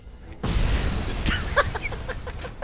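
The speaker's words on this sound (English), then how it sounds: "So many explosions." Loud explosions in the game Robocop: Rogue City rumble and burst after a brief quiet start, followed by scattered sharper pops and blasts.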